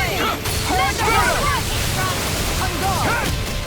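A water tornado attack in the video game Tales of Arise sounds as a dense whooshing, roaring rush of swirling water and wind, with game voices and shouted calls over it throughout.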